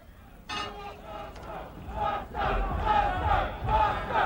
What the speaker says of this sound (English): And the crowd is chanting Buster.